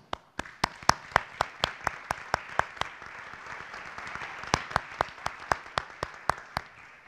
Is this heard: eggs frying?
no